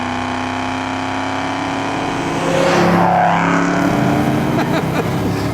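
A 1967 Ford Mustang Shelby GT500 V8 engine runs close by, a steady low rumble that swells into a louder rev-like rise midway and then holds.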